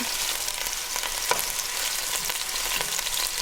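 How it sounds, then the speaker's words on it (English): Oil bubbles and sizzles steadily in a pan while beef stew is being cooked, a continuous close crackling hiss with a few sharper pops and no talking. "be careful of the oil bubble in it"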